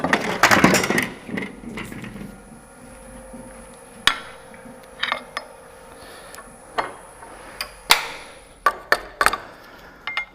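A woodturning tool trues up a wobbling wood center on a lathe, with a dense burst of scraping at first, then scattered sharp knocks and ticks over a quiet hum.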